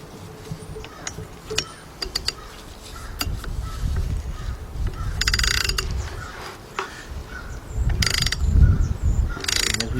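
A ratchet clicks in bursts while lowering the power steering pump pulley on a Mercedes E320, with metallic tool knocks and rattles close by and brief pauses between strokes.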